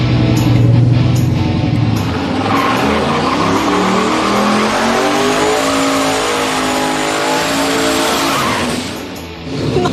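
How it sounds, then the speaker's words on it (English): A boosted hot rod drag car launches off a trans brake, its engine roaring loud and close as revs climb steadily across several gear-like sweeps with a hint of tire squeal. "build that boost on the line and then launch on the trans brake with boost"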